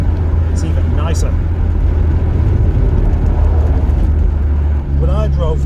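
An MG TF 135 sports car being driven makes a steady low engine drone and road rumble, with a brief dip in level toward the end, while someone talks over it.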